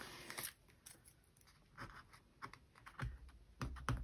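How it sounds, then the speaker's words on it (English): Tape is peeled off an abstract painting, giving a quick series of crisp crackles and sharp ripping snaps that grow denser and louder toward the end, close up, with no talk. "you can see here I removed the tape"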